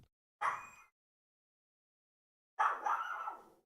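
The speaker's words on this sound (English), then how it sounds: "dog's barking" A dog barks indoors twice, two loud separate barks with a silent gap between them, the second longer and rougher, with no one talking.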